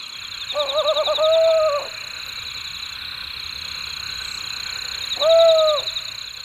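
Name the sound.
male owl calling after a successful hunt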